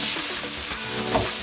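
Capsicum sizzling in a hot pan with Mongolian lamb, a loud, dense, steady hiss up close with a few soft stirring bumps over a brief moment.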